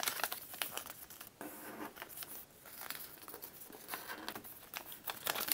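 Paper is folded into an origami Star of David, with steady close crinkling, creasing and rustling that runs without a break and includes a few sharper crackles as the folds are pressed flat.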